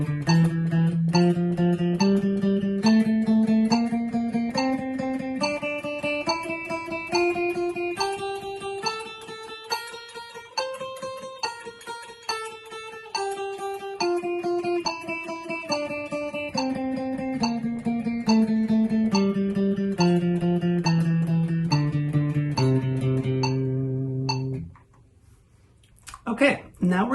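A guitar picks a long run of rapid, evenly repeated sixteenth notes climbing and falling in pitch, loud and close, ending with a brief pause and a few clicks.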